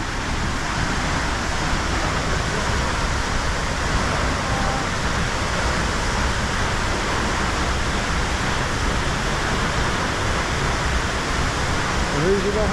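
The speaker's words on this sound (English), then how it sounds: "The single highest, the highest single drop waterfall in England." Hardraw Falls, England's highest single-drop waterfall, roars steadily and loudly, a dense unbroken rush of falling water from start to finish.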